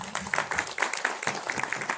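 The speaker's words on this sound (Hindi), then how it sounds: "और तालियां होनी चाहिए।" An audience at a poetry gathering held for a Shri Krishna festival claps in a brief, scattered burst, individual hand claps audible at moderate volume with a little voice mixed in.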